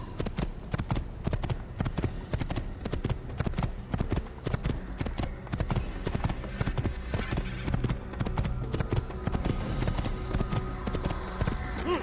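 Rapid, continuous hoofbeats of a galloping horse in the video game Assassin's Creed, loud and rhythmic throughout, with a voice occasionally talking over them.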